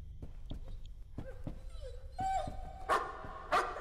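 Dog in the horror video game Layers of Fear, a few short barks and yips mixed with whimpering and clicks, ending in two louder sharp barks near the close, no talk.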